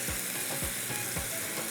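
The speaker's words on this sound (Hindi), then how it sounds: "तड़के में मैंने ऑयल डाला है" Hot oil sizzles and crackles steadily as a tadka is tempered for nihari masala, with a dense continuous hiss and a few soft scraping stirs, close and loud, with no talk.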